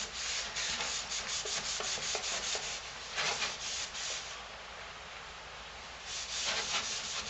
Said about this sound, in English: I'll just go ahead and rub a light coat on the bottom